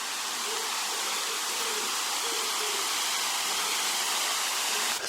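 Steady broadband rush of a small waterfall on the river at Waterfall Square in Great Ayton, North Yorkshire, heard close and continuous without a break, no voices over it.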